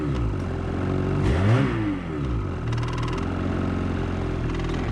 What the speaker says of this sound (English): Give her a little rev here. Listen to how fast this thing revs up.